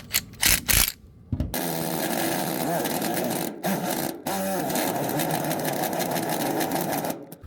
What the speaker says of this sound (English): we're gonna drill like a pilot hole